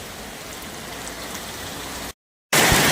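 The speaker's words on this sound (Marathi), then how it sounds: "एवढा भयानक पाऊस चालू आहे" Heavy evening rain in Nagpur, whipped up by strong wind, hisses as a dense, steady downpour. It cuts out briefly near the end, then returns even louder.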